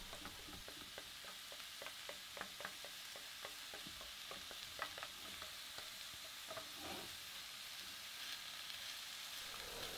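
Onions sweat gently in oil with a pinch of salt, giving a soft, low, continuous sizzle with quick stirring clicks in the first half, then a quieter steady hiss.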